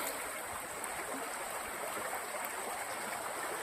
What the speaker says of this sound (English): that's part of the Jacks Fork River by Blue Spring